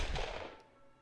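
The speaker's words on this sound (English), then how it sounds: "multiple gunshots cracked from behind me." Several gunshots crack in the visual novel game Hakuoki: Edo Blossoms, set in Edo-period Japan, a loud burst of overlapping reports at the start that fades into a decaying echo within about a second, with no talking.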